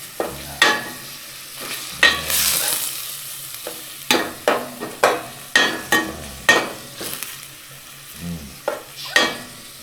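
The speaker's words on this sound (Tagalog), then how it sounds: "So, saute ko lang. Hanggang magkaroon ng kulay yung ating pork." Pork sautéing in a little oil in a pan at a camp cooking setup, with repeated sharp stirring scrapes and bursts of sizzle recurring through the clip, fairly close and alone without talk.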